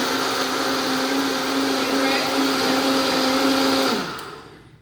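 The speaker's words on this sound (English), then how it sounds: "so we blended this for about 10 minutes" A Vitamix blender runs at full speed through vegan cashew cheese with a loud, steady, close whir, then winds down and stops near the end.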